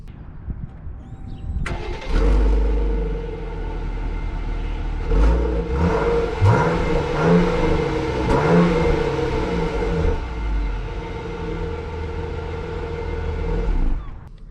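A Jeep Grand Cherokee L's 3.6-liter naturally aspirated V6 with an 8-speed automatic fires up, then pulls steadily with a rising, sustained engine drone that swells in pitch, loud and close, with no talking.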